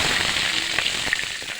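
Onion and garlic cloves frying in hot oil in a home kitchen pan give a steady, close crackling sizzle with scattered sharper pops, continuous throughout and without talk.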